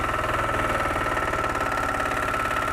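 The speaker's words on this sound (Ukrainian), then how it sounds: "Слухайте, як мотоблок працює." A small diesel walk-behind tractor engine chugs steadily nearby, with a rapid knocking rhythm and constant vibration throughout.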